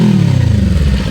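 A motorcycle engine revving close by, a loud throaty pulsing burble that falls slightly in pitch over about a second, with no voices over it.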